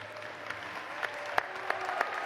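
Applause from a Tougaloo College commencement audience sounds fairly faint and distant, a soft, steady patter with a few crisper individual claps standing out.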